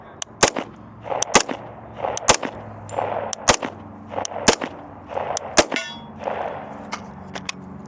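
A Stribog SP45A3 Gearvolution airsoft gun fired from the hip, a string of sharp, close metallic clacks in irregular single and double shots over a low background hum.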